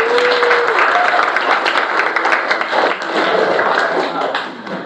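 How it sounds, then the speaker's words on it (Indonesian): A crowd applauds continuously, dense and loud, with voices mixed into the clapping throughout. "Tepuk tangannya semua"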